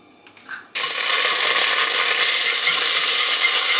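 Thai red curry paste hits hot olive oil in a pan and erupts into a loud, steady, close sizzle that holds without a break after a few faint clinks.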